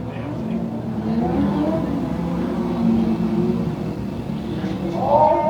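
Mod Lite race cars roar around Can-Am Speedway, a steady mid-distance engine drone with rising revs as cars pass, heard beneath an announcer's voice.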